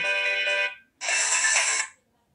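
Phone notification tone on a Vivo Y12s, two short bright chiming bursts separated by a brief pause, clear and alone.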